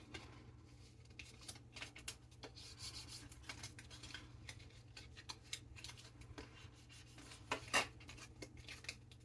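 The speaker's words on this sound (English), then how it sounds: "And just be patient as you burnish all of the folds" Quiet, steady rubbing and scraping as a tool burnishes the paper folds of a gift box, a soft raspy texture repeated in short strokes over a low background hum, with one brief sharper scrape.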